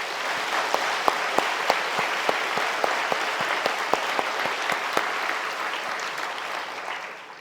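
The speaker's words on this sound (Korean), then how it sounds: "모든 주의 종 목사님들께 모두 우리 격려의 박수 한번 드리십시다" A church congregation applauds its teachers and pastors on Teachers' Sunday with sustained, full clapping, a few sharp individual claps standing out before the sound tapers off at the end.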